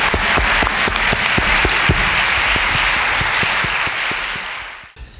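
Audience applause fills the hall at the POSTECH matriculation ceremony, dense and steady for about five seconds before ending abruptly, with sharper individual claps standing out near the front.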